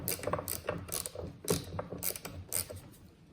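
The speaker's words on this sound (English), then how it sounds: "And now you can tighten the bolts without any issues." Office chair bolts being tightened with an Allen wrench, a close series of quick metallic clicks and ratcheting scrapes in an irregular rhythm, with no talking.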